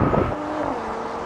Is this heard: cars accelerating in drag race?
yes